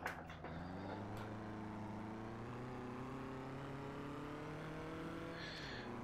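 Car engine droning while driving in the Rigs of Rods video game, a steady, fairly quiet tone that climbs slowly in pitch as it accelerates, with a brief shift near the end.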